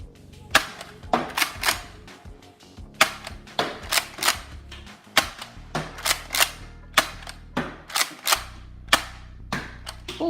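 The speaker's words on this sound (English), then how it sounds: "we're gonna fire the Vortex discs from Nerf first" Nerf Vortex discs are launched one after another from a Nerf Fuse Fire blaster, a rapid series of sharp plastic snaps and clacks, about twenty in all, loud and close, with brief pauses between some shots.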